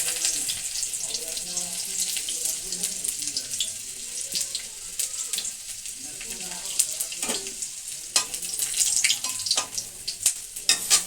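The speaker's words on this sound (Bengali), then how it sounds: "রসুনটা ভাজা হয়ে গেছে" Garlic frying in oil alongside dried red chilies, a bright crackling sizzle under muffled background voices, with sharp spatula scrapes and pan knocks growing more frequent toward the end.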